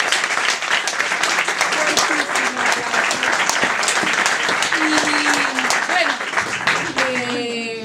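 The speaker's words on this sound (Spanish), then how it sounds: "Yo creo que la mesa se merece un fuertísimo aplauso" An audience at a panel talk on a media law breaks into loud, sustained clapping, dense and close, holding for several seconds before tapering slightly, with some voices mixed in.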